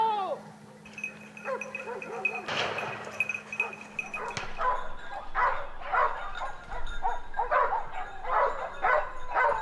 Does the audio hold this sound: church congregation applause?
no